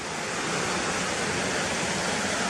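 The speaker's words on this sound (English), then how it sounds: "you hear the river running fast to the right of us, down there" A fast-running river in the Gunnerside Gill woodland rushes below the path in a steady, dense roar that continues unbroken throughout.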